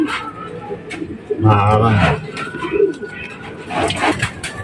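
Pigeons coo in a loft fitted with a flying pen and trapdoors, their soft, throaty calls rising close by while someone talks over them.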